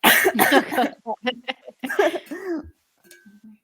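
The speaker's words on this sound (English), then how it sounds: "I'm going to cough a bit more" A person coughs several times in harsh, close bursts, with short pauses and a few softer throat sounds trailing off at the end.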